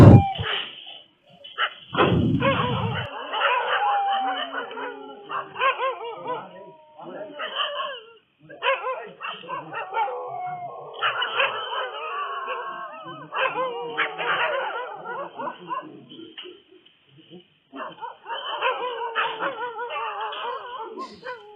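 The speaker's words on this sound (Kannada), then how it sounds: "ಸುತ್ತಮುತ್ತ ನಾಯಿಗಳು ಕೂಡ ಬೊಗಳ್ತಾ ಇದ್ದಾವೆ" Several dogs bark and yelp repeatedly near a farm, captured on CCTV, close by and loud, in irregular bursts with whining and whimpering between, continuing throughout.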